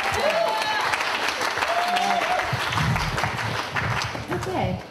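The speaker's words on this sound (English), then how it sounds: "you can clap your hands for them too" An audience applauds at a wedding celebration for Marietta and Lily, steady clapping filling the room while a voice talks over it.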